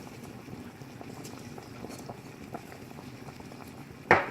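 A pot of beef stroganoff at a steady rolling boil, with a continuous low bubbling rumble and soft patter, then a brief louder clatter near the end.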